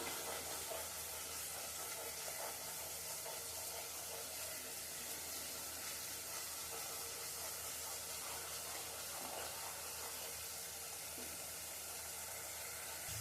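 Ground masala paste sautés in oil for a fish curry, giving off a steady, soft sizzling hiss that holds evenly throughout with no talking.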